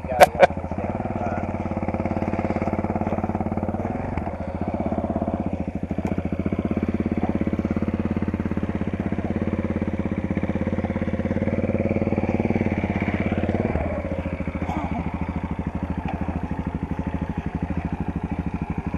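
Motorcycle engine held at steady high revs while riding through sand on a training course, loud and close for the whole stretch with small dips and surges in pitch, a brief clatter at the start.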